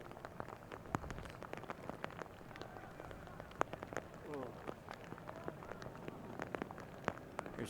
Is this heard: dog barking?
no